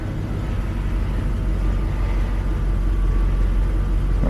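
A 1983 Mercedes 380SL engine idles steadily after starting, a continuous low rumble with a faint whine running evenly throughout, close and fairly loud.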